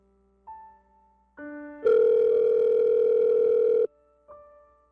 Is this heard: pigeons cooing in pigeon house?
no